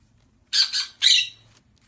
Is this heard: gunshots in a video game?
no